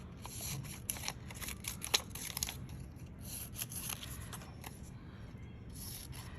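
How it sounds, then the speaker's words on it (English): Scissors snip through paper while cutting out shapes for a paper castle craft: a run of quiet, quick crisp cuts and paper rustles, fairly close, with no talking. "And then I'm gonna cut one at a time."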